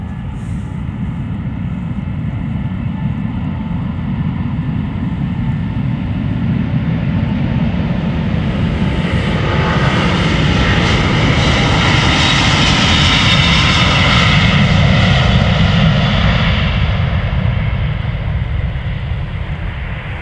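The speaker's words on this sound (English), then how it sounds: "lined up is the Team USA Delta Airlines A330neo going to Minneapolis, Minnesota" A Delta Air Lines Airbus A330neo jetliner takes off at Amsterdam Schiphol Airport, its engines making a loud, sustained roar that swells and peaks midway, heard up close and alone.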